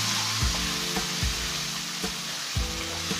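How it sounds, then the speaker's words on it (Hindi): Chopped tomato goes into a pan of frying ginger and potato and gets stirred, giving a steady close sizzle with low scraping strokes about every second. "अब हम इसमें डालेंगे हमारी टमाटो चॉप. तो कर लेते हैं मिक्स."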